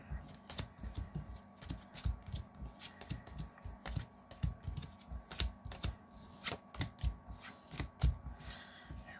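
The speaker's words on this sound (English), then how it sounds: "Almost done shuffling non-lands." Playing cards are shuffled repeatedly, soft riffling bursts and taps in an irregular rhythm, close and fairly quiet.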